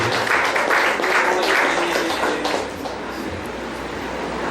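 Steady, dense applause from a church congregation fills the space, continuous and loud, easing slightly toward the end with a faint tone held underneath.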